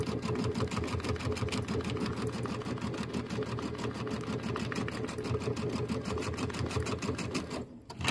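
A sewing machine topstitches a pillow with white polyester thread, running in one steady, fast, evenly pulsing burst of needle strokes close by for about seven and a half seconds before stopping abruptly.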